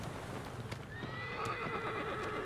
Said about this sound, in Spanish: Tengo que decir que igual el caballo tiene ya más años que Matusalén